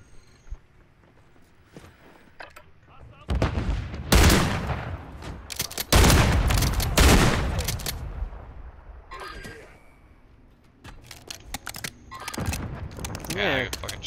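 Gunshots in the shooter game Call of Duty Modern Warfare 3, with loud clustered blasts and bursts in the middle, surrounded by quieter game sounds and some movement noise.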